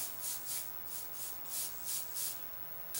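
An airbrush sprays paint onto a caricature in short repeated bursts, each a soft breathy hiss, roughly seven or eight close, fairly faint puffs with brief gaps between them.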